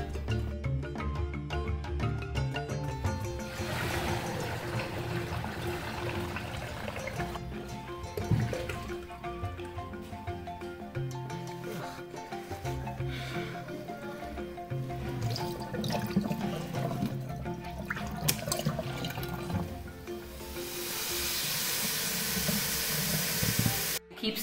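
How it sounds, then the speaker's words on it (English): Fermented corn pap is squeezed in a straining cloth, giving continuous trickling, splashing and dripping of liquid close by that keeps going for many seconds with occasional louder bursts. "Keep squeezing it till all the water is gone on the inside."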